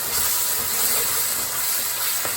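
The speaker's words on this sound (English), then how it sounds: "now I'm gonna just go ahead and add in my beef along with the marinade" Beef and its marinade sizzle in a hot pan with cooking peppers and onions for Asian-style beef, a steady broadband hiss filling the clip close and fairly loud with no talk.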